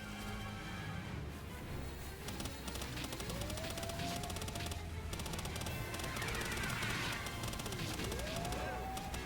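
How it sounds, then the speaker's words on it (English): Repeated rocket launches and explosions in the Palworld game during a raid boss fight, dense and continuous rapid bangs and crashes with someone talking over them. "More rockets."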